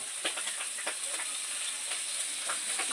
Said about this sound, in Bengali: এখানে পাবদা মাছ ভাজা চলছে।